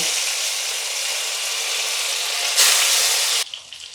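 Salted paneer pieces frying in hot white oil in a kadai, giving a loud, steady, close hiss that swells briefly near the end before cutting off sharply.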